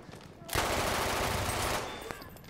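Sustained burst of automatic gunfire from a weapon in the Battlefield 1 shooter, loud and dense for over a second before cutting off, with quieter game ambience and scattered shots around it.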